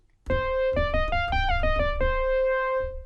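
A bright, buzzy synthesizer lead, one element of a Yamaha MOXF8 lead voice, plays a short run of rising then falling notes, ending on a long sustained tone; clean and close with no talking.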